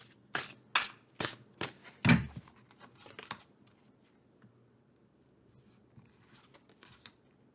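Tarot cards being shuffled by hand in a quiet room, with six or so crisp, riffling bursts at a steady beat, then softer scattered slides and taps and a faint final flurry, close and fairly quiet.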